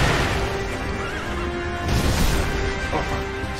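A horse neighs in Sekiro: Shadows Die Twice amid a dense, loud game soundscape, with a wavering whinny over a constant rumbling bed and a few faint hoof sounds.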